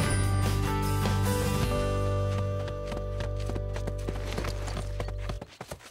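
Cartoon horse hooves clip-clopping in a quick, steady trot as the rider picks up speed, close and continuous over a background music bed, ending abruptly near the close.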